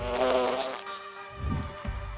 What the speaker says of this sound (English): you'll see the golden bee fly moving through the air